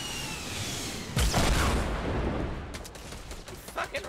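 Rockets fired during a Fortnite match, a burst of booming launches and blasts with a sharp onset, followed by scattered smaller gunfire-like cracks, moderately loud.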